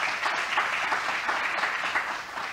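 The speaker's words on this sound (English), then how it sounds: "Big clap for you." Steady, dense audience clapping fills the hall at a school reunion event, an even wash of hands with no voices over it.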